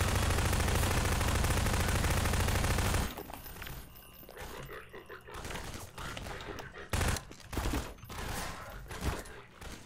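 Loud continuous machine gun fire in a Hello Neighbor Garry's Mod game for about three seconds, then scattered sharper shots and thumps with a voice talking.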